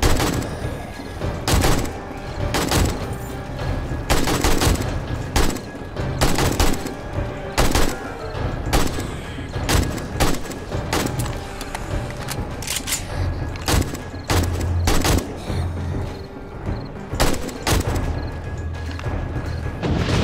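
Rapid, repeated gunshots boom in the video game 7 Days To Die during a horde night, loud irregular bursts of fire with short gaps and heavy low thuds throughout.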